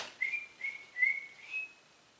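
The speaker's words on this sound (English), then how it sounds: "you can whistle," A person whistles a short series of four clear notes, slightly rising at the end, close and fairly quiet with no other sounds.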